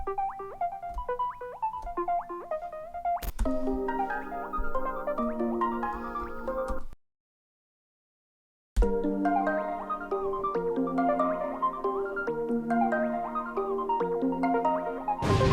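A synth lead preset from Alchemy plays busy, bright melodic phrases with retro video-game character, running loud for several seconds, dropping out to silence for about two seconds, then resuming with fuller bass underneath; no voices.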